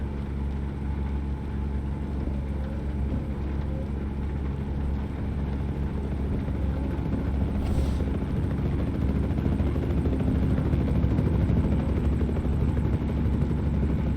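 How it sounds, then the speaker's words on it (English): A helicopter circles overhead in American Truck Simulator, its rotor producing a constant, fairly loud whirring drone beneath the steady road noise of a truck cruising through Missouri. "Helicopter in the sky shooting radar."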